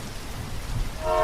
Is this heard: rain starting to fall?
yes